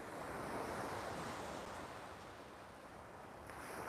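Ocean surf rolls onto a wide sandy beach at Hua Hin on an early morning, producing a loud, continuous wash of breaking waves with some wind rumble and no talking.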